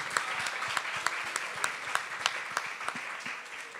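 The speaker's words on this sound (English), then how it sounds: "Give a round of applause to yourself." A room full of women at a political party convention bursts into sustained applause, dense clapping with a few sharper, louder claps standing out at a steady level throughout.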